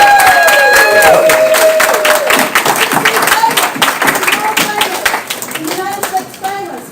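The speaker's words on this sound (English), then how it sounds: "Big round of applause for Dr." An audience breaks into applause for Dr. Patel at a nurses' week stand-up comedy tribute, a dense burst of clapping hands that starts loud and gradually thins and fades, with a voice talking over it.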